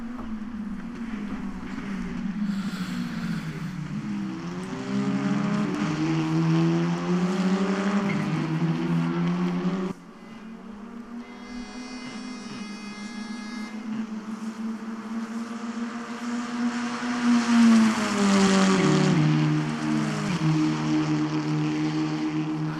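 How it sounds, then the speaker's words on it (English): Audi Sport TT Cup race cars in the RaceRoom racing game, their engines droning loudly and continuously with rising and falling revs through gear changes, heard alone without commentary. "let you listen to them engine notes"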